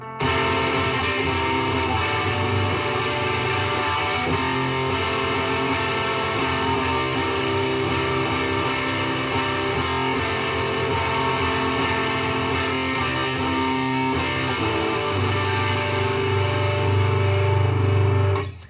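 A distorted electric guitar strums a sustained chord progression from a song, coming off the chorus, loud and continuous, with chords changing every few seconds.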